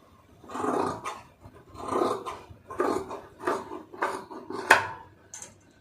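Scissors snip through cotton blouse fabric to cut a sleeve, a series of about six rasping cuts in an uneven rhythm, close and moderately loud, with no talking.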